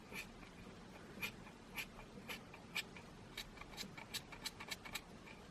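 Scissors snip through the strands of a yarn tassel for a crochet shawl, a quiet series of short crisp cuts that speed up toward the end, close and isolated against faint room noise.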